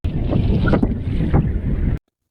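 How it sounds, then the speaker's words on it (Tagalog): Strong, gusty wind roars and buffets the microphone, with a low rumbling surge, then cuts off abruptly near the end. "Malakas yung hangin mga kadayo."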